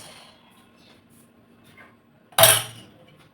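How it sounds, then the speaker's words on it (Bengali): A single sharp clink of tea dishes and cups knocking together during dishwashing at home, close and brief after near-silence. "কয়েকটা চায়ের বাসন আছে মাজবো"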